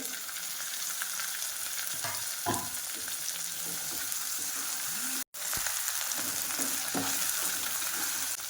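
Finely chopped tomato fries in a pan with a continuous close sizzle, joined by occasional stirring scrapes. A short dropout breaks the sound partway through.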